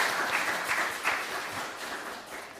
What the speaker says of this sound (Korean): 그 익명의 성도님을 향해 감사의 박수를 드리겠습니다